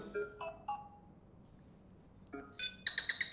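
A Nothing Phone (1) plays its Beetle ringtone: a few short, scattered electronic chirps, then a quiet gap, then a louder run of bright, rapid tonal clicks and trills near the end, with no voices.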